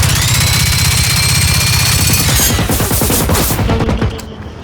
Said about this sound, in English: we're going to fight him with the experimental SMG